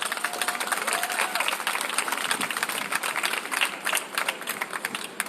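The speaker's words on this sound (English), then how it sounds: "So let's give him a round of applause." Crowd applause at an outdoor rally at the Michigan State Capitol, a steady dense wash of clapping from many people that holds throughout at a fairly even level.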